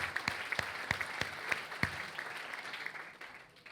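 Audience applause at a Binance crypto meetup in Nicosia, a steady wash of clapping from a modest crowd with a few sharp individual claps standing out, fading slightly toward the end.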